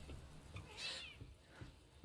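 A cat in the game The Medium lets out a single faint meow over quiet low background ambience.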